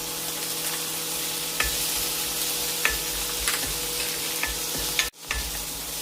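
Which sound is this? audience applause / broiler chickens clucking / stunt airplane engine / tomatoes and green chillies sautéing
tomatoes and green chillies sautéing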